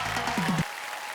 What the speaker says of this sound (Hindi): एक बार जोरदार तालियां यहाँ पे होनी चाहिए